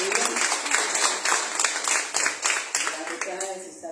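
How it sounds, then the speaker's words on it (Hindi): A church congregation claps for the Lord during a service, making dense, continuous applause with a steady beat. Voices carry on over the clapping throughout. "तालियों में प्रभु के बजा दो,"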